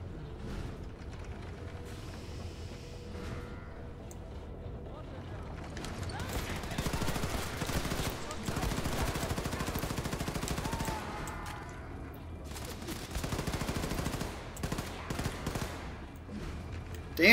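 Gunfire in the video game Wolfenstein II: The New Colossus, with dense bursts of rapid automatic shots coming in clusters over a constant game background and mechanical clatter, loud and close.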